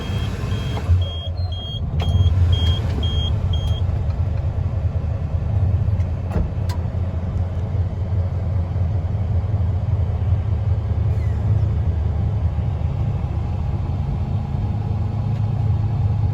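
Western Star glider kit daycab truck from 2020 idling with a deep, steady diesel rumble up close, a few short electronic beeps early on, then a smooth continuous drone.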